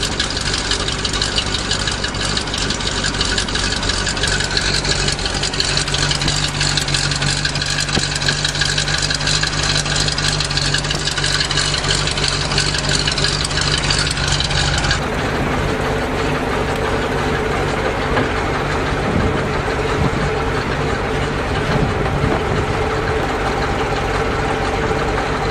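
A 427 engine in a dump truck runs steadily in gear, a loud continuous rumble with knocking that changes character partway through, close to the microphone and with no talking.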